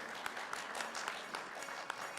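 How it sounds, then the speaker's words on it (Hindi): An audience at a live stage event applauding, a steady wash of clapping heard from a distance with a few sharper claps standing out. "एक बार और ताली बजाइए।"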